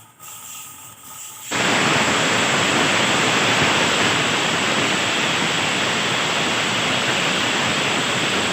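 After a brief quiet moment, a loud, continuous rush of water pours into a pot and keeps gushing steadily.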